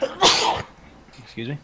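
One sharp, loud sneeze bursts out near the microphone, followed moments later by a person speaking briefly.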